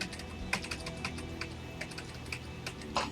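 Computer keyboard being typed on, a quick irregular run of crisp clicking keystrokes at close range with a few louder taps, over faint background hum.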